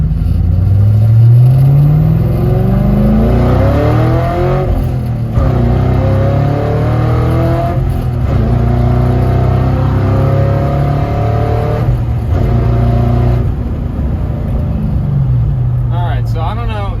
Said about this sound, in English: she smoked the tires, and on top of that, on the 1-2 shift, she chirped them